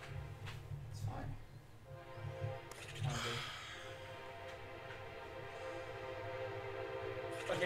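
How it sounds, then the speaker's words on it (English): A passing train rumbles low and steady in the background, picked up faintly by a microphone, with horn-like tones and a few sharp clatters rising over the continuous drone. "now if it's not picking up the train, I'll be shocked"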